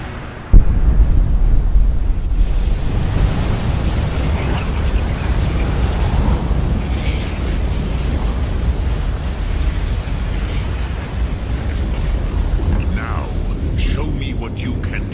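A dragon shout breathes fire in Skyrim, heard as a sudden burst followed by a long, loud, steady roaring rush like rushing flame and wind that fills the whole stretch.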